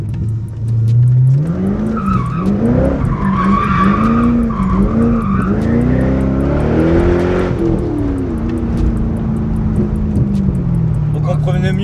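Corvette with a 350 hp engine lapping a race circuit, its tires squealing and skidding loudly through corners over a steady, close engine drone, with a sliding wail rising and falling for most of the stretch.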